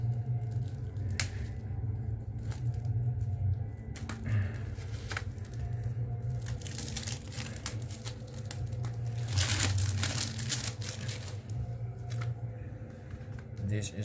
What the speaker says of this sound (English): Yes, I have to cut this open.